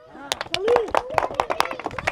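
A small audience at a village game with hockey sticks and a bottle tower claps for a player. A voice leads in, then a short run of quick, scattered claps follows.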